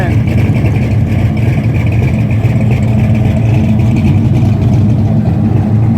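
A Chevrolet S10 pickup rolls onto the field at a spring car club show, its engine a steady mid-low drone heard nearby throughout, mixed with crowd noise and chatter from people around.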